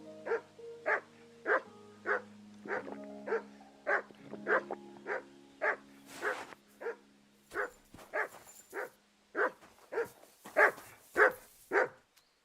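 Dog in the Kingdom Come Deliverance II video game barking repeatedly in a steady rhythm, about twenty clear barks over a low musical drone, moderately close and with no talking.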